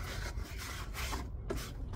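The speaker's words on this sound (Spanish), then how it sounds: "aquí tengo una garra, mire, con esto las limpié" A rag rubs a flowerpot clean in a series of quick, close, rhythmic scrubbing strokes, dry and rasping, heard alone without talk.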